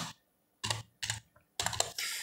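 Someone types on a computer keyboard, close and crisp, in four quick clusters of keystrokes separated by short pauses, with no talking.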